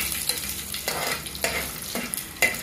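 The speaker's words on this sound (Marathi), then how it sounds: "आता हे जरा परतून घ्यायचं" Cumin and whole spices such as cloves and pepper sautéing in hot oil in a pan for soya pulao, a close, steady sizzle with a few scraping stirs and light clinks of a spoon.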